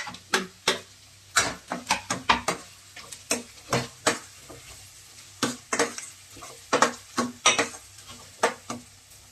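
Two finely chopped onions sautéing in a pan for Gujarati dal palak, a steady run of sharp spatula-stirring scrapes and clatters over a soft sizzle, close and fairly loud with no talk.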